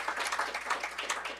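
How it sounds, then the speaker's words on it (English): An audience claps at a church-related talk, a steady patter of many hands, moderately loud and continuous, with no voice over it. "You can applaud."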